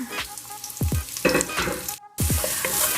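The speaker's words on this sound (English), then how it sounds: "Okay, now that my oil is nice and hot, I'm gonna grab my onion slices and throw it in there." Onion slices drop into hot oil and fry with a close, lively sizzle, punctuated by several sharp knocks and clatters of handling, with a brief silence partway through.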